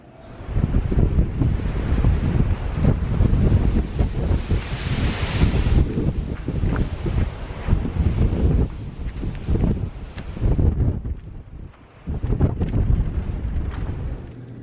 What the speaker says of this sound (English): I can't even show you how windy it is right now.